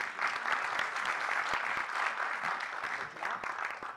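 Steady applause from an audience, a dense patter of many hands clapping continuously at a fairly even level throughout.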